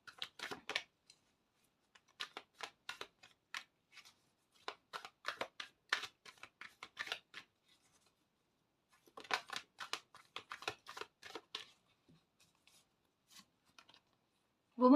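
Tarot cards being shuffled and drawn by hand in a quiet room, heard as bursts of dry papery riffling and flicking in several separate runs with short pauses between them, close to the listener and with no talking over them.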